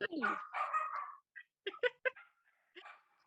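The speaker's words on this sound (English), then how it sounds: "The alert dogs are on alert" Dogs barking indoors at home, several sharp barks and yips in irregular bursts with short gaps, fairly close and clear, alone without talk over them.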